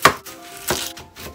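Enoki mushrooms are cut with a knife on a board in a few sharp, separate chops spaced irregularly, close and fairly loud, with no talking.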